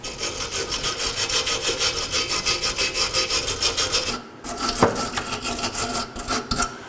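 A wire brush scrubs the brake hose mating surfaces on a 2013-2019 Nissan Sentra, rapid rhythmic rasping strokes close up, pausing briefly before a few more uneven scrapes.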